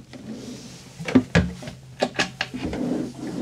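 A few close wooden knocks and sliding scrapes of kitchen drawers on a sailing yacht being pulled open and pushed shut, in an otherwise quiet cabin.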